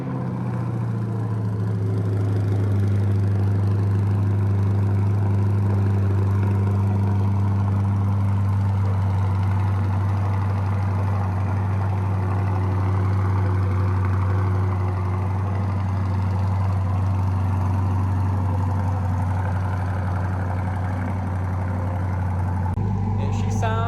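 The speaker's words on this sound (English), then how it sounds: "Let me get a quick little cold start for you guys." A C8 Corvette Stingray 6.2L V8 fitted with an MRT exhaust idles on a cold start, a deep, steady low rumble that holds loud and even throughout, with a brief click near the end.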